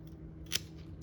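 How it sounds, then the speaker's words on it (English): A single sharp snip of pruning shears cuts a mulberry scion for a cleft graft, one brief crisp click over a quiet low hum. "I'm going to take this scion and I'm going to cut it down."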